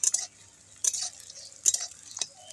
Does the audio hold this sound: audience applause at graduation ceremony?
no